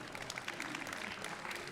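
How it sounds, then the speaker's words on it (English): Steady applause from a forum audience clapping for four panelists at a smart city infrastructure event, a dense, even patter of many hands throughout, moderately distant. "let's clap it up for the 4 panelists before we keep going right now."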